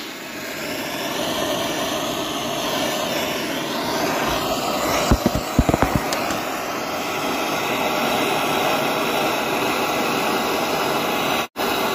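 A heat torch roaring steadily as it warms the aluminum front differential case around the drain plug on a Big Bear ATV, a loud continuous hiss with a few brief clicks partway through.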